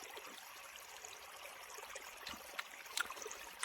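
Water from a forest spring trickles steadily in damp, rainy woodland, a soft continuous flow with faint splashes and a few brief droplet clicks near the end, quiet and nearby.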